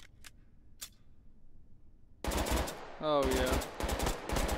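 Rapid gunfire from a weapon in the VR shooter H3VR, loud bursts starting partway through and continuing in dense repeated cracks, with a brief exclamation and other game sounds mixed in.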